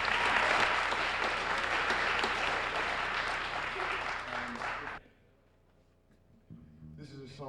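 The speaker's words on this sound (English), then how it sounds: "He's well worth that round of applause, as you'll soon discover." An audience at a faculty jazz recital applauds in a dense, steady roar of clapping for about five seconds, then it cuts off to near quiet before a voice and a brief musical sound.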